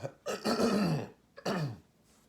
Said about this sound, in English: Sorry about clearing my throat here